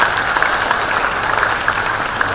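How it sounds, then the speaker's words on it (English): Audience applause fills an auditorium after a speaker is introduced at a talk, a dense, steady wash of many hands clapping at once, sustained and fairly loud throughout without any voices. "So let's get a good round of applause for Winston Sertel."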